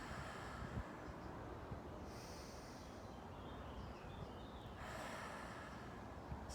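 Steady, heavy breathing during a beginners' strong yoga session, continuous inhales and exhales with a brief gasp or snort near the start, close and fairly loud with no talking.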